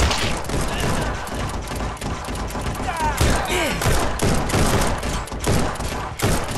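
Dense, relentless heavy gunfire from the video game Guns'n'Stories: Bulletproof, loud and continuous with rapid overlapping shots and thuds, a voice briefly talking under the barrage.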